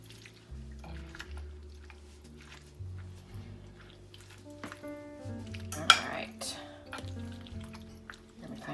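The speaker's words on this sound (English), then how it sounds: "I'm just gonna stir that cheese in" A spoon stirs cheese into a ham and diced turnip mixture in a pan, making soft, quiet scraping and clinking sounds under light background music.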